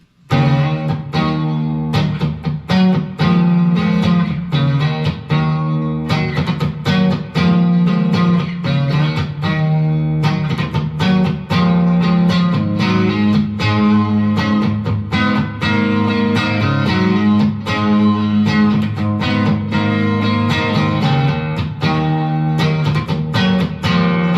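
Firefly FFST Strat-style electric guitar on the neck pickup, played through a Blackstar HT20 amp in a continuous run of strummed chords and picked notes, loud and unbroken for the whole stretch with no talking.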